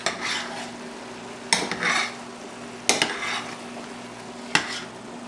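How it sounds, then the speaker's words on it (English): Chili ingredients being stirred together with cooked meat in a pot, a spoon scraping and clacking in three distinct bursts over a soft background sizzle, close by with no talking. "you'll want to mix them all together with the meat"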